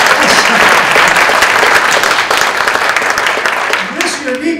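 Audience applause fills a university lecture hall at the inauguration of an endowed chair in applied critical thinking: dense, steady clapping held loud and close for about four seconds, then thinning out toward the end.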